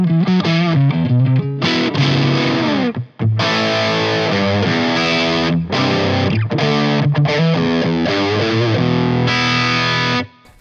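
Electric guitar played through a Laney GHR series amp with the preamp gain turned up and the master output lowered, giving a heavily distorted tone. Loud sustained chords and notes with short pauses between phrases, and no speech.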